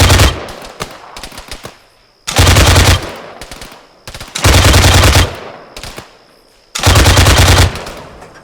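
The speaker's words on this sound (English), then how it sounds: "I'm going to remote control this heavy gun and just suppress the hell out of them" Heavy machine gun laying down suppressive fire in Arma 3, three loud sustained bursts of rapid automatic fire separated by short pauses, with quieter distant shots and battlefield rumble between them.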